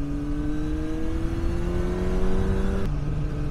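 Motorcycle engine held at a gentle, easy throttle, a steady close drone whose pitch creeps slowly upward before dropping back sharply near the end, heard alone.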